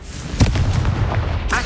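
Confringo fire spell blasts in Hogwarts Legacy: a punchy explosive burst followed by crackling, rumbling impacts and a shorter flare near the end, loud against combat ambience.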